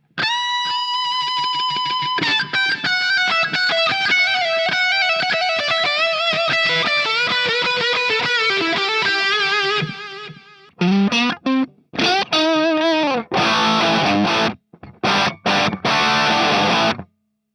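A distorted electric guitar with a 1980s-style solo tone plays a loud solo of sustained, bending notes, then breaks into choppy bursts with short silences near the end.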